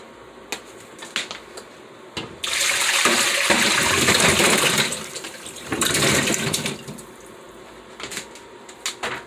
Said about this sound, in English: I just wash it again and add the water.